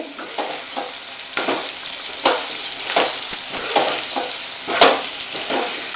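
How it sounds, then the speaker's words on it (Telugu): Spices including chili powder, coriander powder and garam masala being stirred into frying chicken in a pan, with repeated scraping strokes over a steady close sizzle, no talking. "కారం ఒకటిన్నర కారం వేసుకోండి ధనియాల పొడి ఒక స్పూన్ వేసుకోండి గరం మసాలా ఒక స్పూన్ వేసుకోండి ఇప్పుడు కలుపుకోండి"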